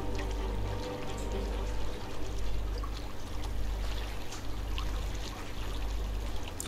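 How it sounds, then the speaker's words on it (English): A water pumping station in Cities: Skylines gives a steady, soft rush of flowing water with a low hum beneath it, continuous and even throughout. "Water pumping station."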